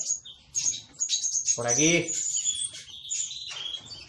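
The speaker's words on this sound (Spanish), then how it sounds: "Uy, que me llegan los pájaros por todos lados." Small birds chirp and tweet close by from several directions, a busy cluster of calls that swells mid-clip, with a brief spoken remark over them.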